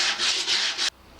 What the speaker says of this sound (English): hand sanding one of these down to the right width so that they'll slide smoothly